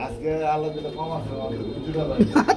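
Soft pigeon coos come and go close by while someone talks over them.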